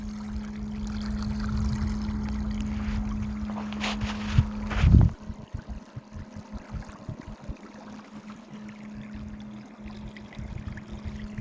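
Small boat driven by an underwater electric thruster drawing 12 amps, with a steady low motor hum under wind and water noise, a brief loud knock partway through, then an even cruising rumble.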